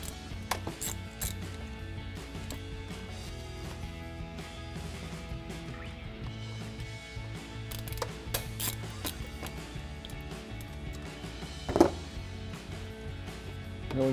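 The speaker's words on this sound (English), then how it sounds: "We'll go ahead and break all three of them loose." A ratchet clicks in repeated runs of quick ratcheting as bolts are broken loose on a 2015-2017 Mustang EcoBoost bypass valve. The strokes are close and clear, with occasional metallic knocks and a louder clunk near the end.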